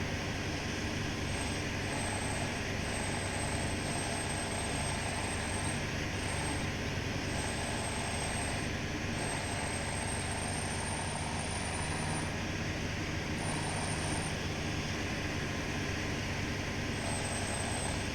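A John Deere 9870 combine harvester in Farming Simulator 17 drones with a steady, loud engine rumble and a thin high whine on top, unbroken from start to finish with no talking.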